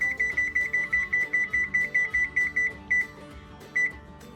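A kitchen timer is set while a Coca-Cola cake is made: a quick, even run of about a dozen sharp electronic beeps, then a pause and two more isolated beeps, close and clear.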